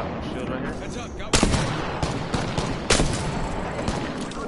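Longbow sniper rifle shots in the video game Apex Legends, two sharp loud cracks about a second and a half apart over dense game noise and ongoing chatter.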